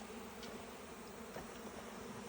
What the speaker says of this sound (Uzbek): Mana qadrdonlar asalari.